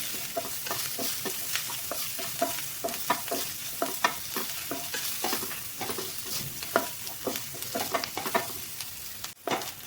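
Onions are sautéed in a pan for a lady's finger stir-fry, with a steady close sizzle broken by frequent sharp scrapes and clacks of a spoon stirring against the pan, and no talk.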